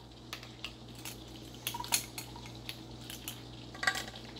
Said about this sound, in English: I'm now adding in 2 teaspoons of baking powder.